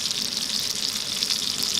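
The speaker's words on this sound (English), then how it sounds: "Get that good sizzle going on it." Steady, close sizzling of pork searing in a hot pan for a roulade, a continuous bright hiss with no voices.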